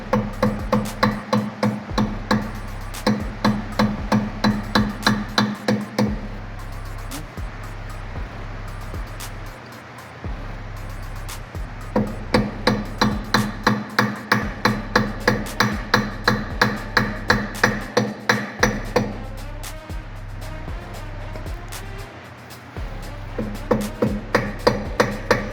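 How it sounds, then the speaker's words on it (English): A lead hammer drives hex cap knock-offs tight on custom Vogue tyre wheels of a Cadillac Sedan DeVille, with sharp metallic blows landing in fast steady runs broken by short pauses. "So the lead hammer is used so it doesn't mess up the style of the hex cap."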